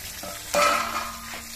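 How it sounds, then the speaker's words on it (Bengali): Onion, capsicum, tomato, ginger and green chilli hit hot oil in a pan with a sudden loud sizzle and a stirring scrape, then settle into a steady close crackle. "এবার তেলের মধ্যে নেড়ে চেড়ে অল্প একটু সময় ভেজে নেব যাতে সবজিগুলো কাঁচা গন্ধটা চলে যায়।"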